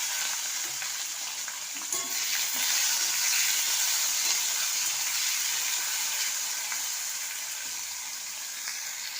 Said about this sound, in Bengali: এবার দিয়ে দিলাম কাঁচা টমেটো